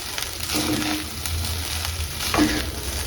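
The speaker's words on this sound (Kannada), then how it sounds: "ಆ್ಯಡ್ ಮಾಡಿ ಚೆನ್ನಾಗಿ ಲೋ ಫ್ಲೇಮಲ್ಲೇ ಇರಲಿ, ಚೆನ್ನಾಗಿ ಮಿಕ್ಸ್ ಮಾಡ್ಕೊಳ್ಳಿ." Egg rice with pepper powder fries on a low flame, a loud, close, steady sizzle broken by scraping stirs of a spatula against the pan, with no one talking.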